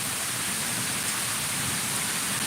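Dense, steady downpour of heavy rain, a constant hiss with no pauses or voices.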